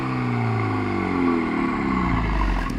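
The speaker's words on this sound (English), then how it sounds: "Driving an LCI with a custom exhaust." A Mini John Cooper Works LCI with a custom exhaust revs continuously, its engine tone sweeping upward in pitch as it accelerates, loud and close throughout with no talking.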